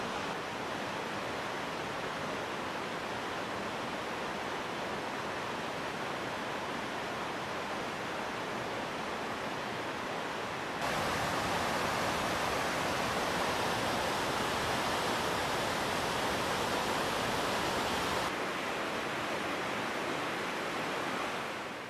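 Iguazú waterfalls roaring, a constant dense wash of falling water heard alone, growing louder in the middle stretch and then easing back slightly.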